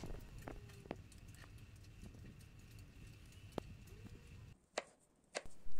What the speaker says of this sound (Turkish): Soyduğumuz patateslerimizi küp küp doğruyoruz.